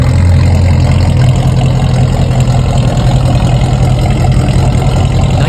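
A 1968 Ford Galaxie engine with straight pipe and headers, a loud, steady, close idle rumble with a low throbbing pulse and no voices.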